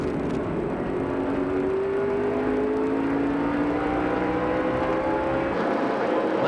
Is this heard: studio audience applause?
no